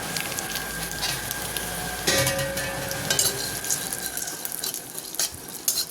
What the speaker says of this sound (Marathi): तर अशा प्रकारे आपण हे चांगले भाजून घेत आहोत तुपावर.